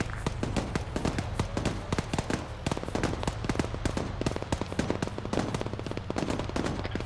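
Gunfire during a milsim exercise, a dense rapid series of sharp cracks and pops in irregular bursts, moderately close and continuous throughout, with no talking.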